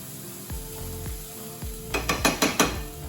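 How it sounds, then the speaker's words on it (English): Chicken skin stir fry sizzles steadily in a pot, with a few dull knocks of cookware early on and a quick run of metallic scrapes and clinks near the end. "While that is frying away"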